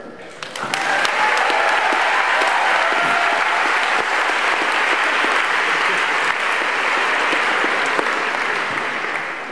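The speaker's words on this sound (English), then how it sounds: "Thank you very much for this applause." A large audience greets a museum speaker with full, sustained applause, rising quickly after a brief start and holding a thick, even clapping texture for several seconds.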